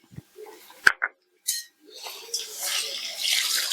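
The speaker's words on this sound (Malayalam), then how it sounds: "കുറച്ച് വെള്ളം കൂടെ ഒഴിച്ചെടുക്കാം" Water poured into a pot of dum biryani with pineapple and salt, heard as a close splashing, pouring rush after a few clinks of utensils against the pot.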